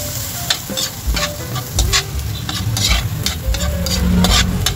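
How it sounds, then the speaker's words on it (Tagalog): Onions go into hot oil with garlic and sauté loudly close by, a bright sizzle broken by repeated sharp scrapes and clinks of stirring, with no talking. "Kaya isunod na natin guys yung ating sibuyas."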